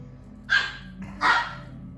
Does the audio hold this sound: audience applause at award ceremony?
no